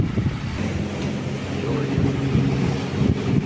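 Wind rushes steadily across the microphone aboard a sailboat running on a broad reach to dead downwind in the tropics, a loud buffeting roar with low rumbles and faint voices underneath.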